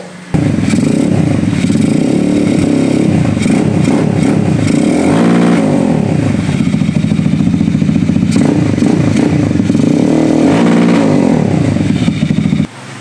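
A motorcycle fitted with a racing CDI and stock valve springs revs hard at high RPM. The engine note is loud, close and sustained, rising and falling in a few throttle swells.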